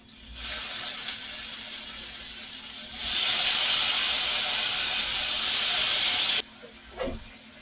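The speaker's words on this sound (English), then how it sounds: "I'm going to add the ribeye steak. So we want to get a sear on those steaks." Thin-cut ribeye steak sears loudly in a hot pan alongside simmering vegetables for a Philly cheesesteak lettuce wrap, a steady hiss that swells into a stronger sizzle before abruptly dropping away, followed by a brief clatter.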